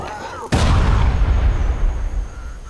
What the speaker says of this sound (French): Ramasser la grenade avant qu'elle n'explose.